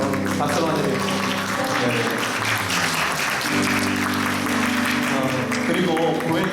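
A church congregation at a Sunday worship service claps to welcome visiting guests, steady sustained applause under background music and a voice speaking.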